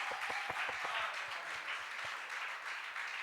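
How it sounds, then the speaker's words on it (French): A church congregation claps for Jesus during a Friday sermon by a preacher, a dense, steady wash of many hands applauding together, fairly loud and continuous with a few sharper individual claps near the start. "Let's clap first for him."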